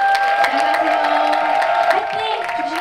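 An audience at a small theatre concert applauds and cheers in a dense, steady wash of clapping and crowd noise that holds for the whole stretch.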